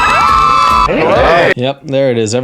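A crowd on a reality TV show screams and cheers in a loud, steady burst, then someone speaks briefly over the noise.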